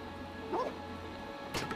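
A dog barks in a Tintin video game, giving a couple of short, faint yips against a low background hum, followed by a sharp thud.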